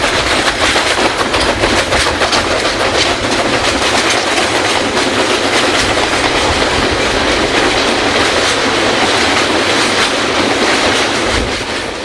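A Chinese QJ steam locomotive and its train rumble across a crossing east of Daban: a loud, close, continuous roar with rhythmic wheel clatter and faint squeals, no speech.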